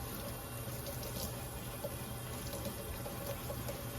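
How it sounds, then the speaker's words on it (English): Tap water runs at a low, steady flow into a kitchen sink while a small mini maker appliance is washed with a soapy sponge, a continuous soft hiss with faint splashing throughout, no voices. "put the water on low"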